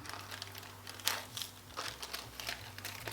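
Thin copper leaf backing sheet peeled away from a wall, a close, soft crinkling and papery rustle with a sharper crackle near the middle, continuing in light bursts.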